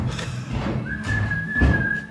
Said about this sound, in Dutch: En wie is er zo leuk in het fluiten?